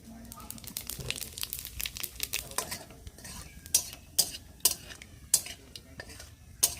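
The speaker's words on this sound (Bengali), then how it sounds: "জিরেটা ভাজা হয়ে গেছে" Cumin seeds fry in hot oil in a pan for a vegetarian chana paneer, giving a crackling sizzle. A spoon scrapes and stirs briskly, building to sharp metallic strikes against the pan near the end.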